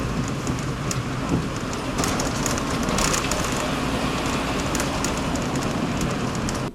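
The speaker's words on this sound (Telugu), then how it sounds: "రామగిరి తర్వాత మన బస్ రైల్వే బ్రిడ్జ్ మీదుగా వెళుతోంది." Steady loud rumble and rattling of an APSRTC bus crossing a railway bridge near Rajahmundry, with continuous road and structure noise throughout and no speech.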